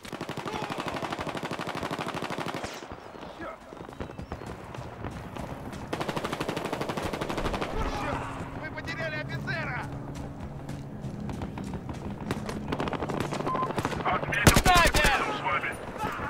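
Rapid automatic gunfire and scattered shots from a Battlefield Hardline multiplayer match, bursts recurring throughout amid game noise, with a sharp loud burst near the end and someone talking over much of it.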